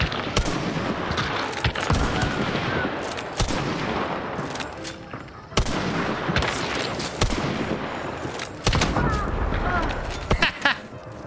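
Gunfire in the video game Hunt: Showdown, loud sharp shots and bursts cracking repeatedly with echoing tails, several heavy blasts spread across the stretch, with someone talking over the shooting.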